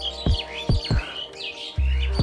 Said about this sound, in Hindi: और ये पाखी, मतलब कि पक्षी जो गा रहे हैं कितना सुंदर से